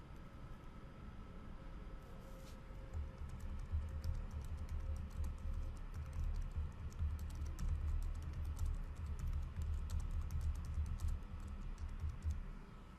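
Keys clatter on a computer keyboard in a quiet room, a steady stream of close, light taps over a low background hum.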